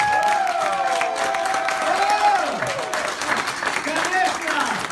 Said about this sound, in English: If you like it, you can clap your hands